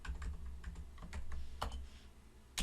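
Quiet tapping on a computer keyboard, a quick irregular run of soft clicks with a few firmer keystrokes, alone and close by.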